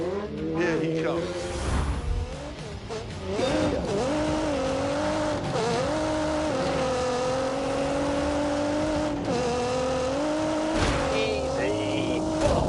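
A car on a fast flying lap around a race track, its engine droning steadily with rising and falling pitch through gear changes, close and loud throughout with commentators talking over it.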